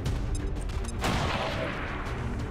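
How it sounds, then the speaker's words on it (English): A grenade is thrown at a sentry in XCOM 2, producing a sharp blast that starts at about one second. The explosion rings out loud over a dense bed of battle noise and game ambience. "Throw a grenade to kill the sentry."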